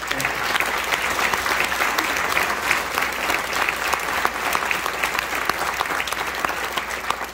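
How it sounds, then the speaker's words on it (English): Loud, steady applause from an audience at a primary election candidate forum in a high school, continuous clapping throughout with no pause. "Let's give all the candidates another round of applause."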